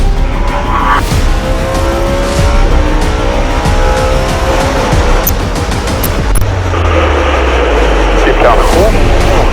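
A race car accelerating hard through the final corner of an oval race, a loud, close engine roar with tire squeal, other cars rushing past, and a voice talking over the noise.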